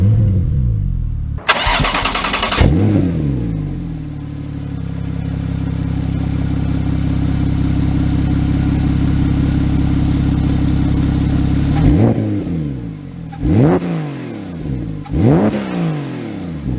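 A modified 1,000-horsepower Porsche 911 Turbo cranks and fires up loudly, settles into a strong sustained idle, then rises into several sharp revs close by.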